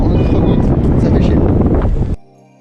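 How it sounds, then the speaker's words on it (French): Strong wind buffets the microphone in an exposed spot after descending a tower in Pristina, with a light rain, a loud steady roar that cuts off abruptly near the end. "il y a beaucoup de vent, il y a un peu de pluie"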